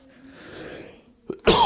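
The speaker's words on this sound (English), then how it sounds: "I did not pause the show to cough" A single sharp human cough bursts out near the end, loud and close, after a short stretch of quiet breathing.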